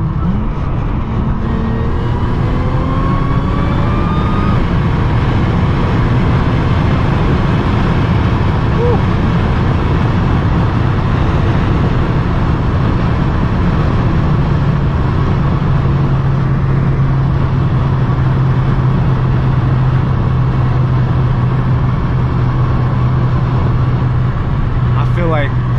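Tuned Audi S4 with a flashed DSG transmission accelerating under load, a steady loud engine drone with rising pitch sweeps from quick gear changes, then a sustained low hum while cruising, with a voice talking over it.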